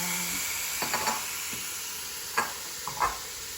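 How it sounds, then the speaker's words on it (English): Cabbage and other vegetables for Manchow soup sautéing in a pan, a steady close hiss with a few soft scrapes and stirring taps. "It's being sauteed there."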